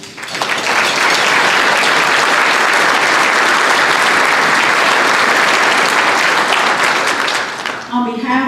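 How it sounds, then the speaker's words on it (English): Sustained applause from a large audience of military veterans and service members at an Association of the United States Army chapter event in Huntsville, dense and loud throughout before tapering off near the end. "Another round of applause."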